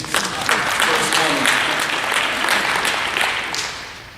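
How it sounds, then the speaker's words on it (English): Audience applause for a comedy act, a dense wash of many hands clapping, loud and steady before tapering slightly at the end, with whoops and voices mixed into the crowd. "Let's give them a round of applause for Jenny."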